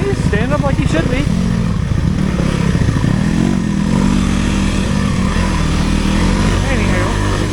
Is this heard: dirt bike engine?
yes